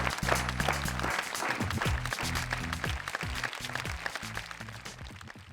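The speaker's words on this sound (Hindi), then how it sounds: "जोरदार तालियां आपके लिए।" Clapping from an audience at a shayari poetry gathering sounds over loud accompanying music with deep rhythmic bass notes, the applause sharp and sustained beneath the instruments.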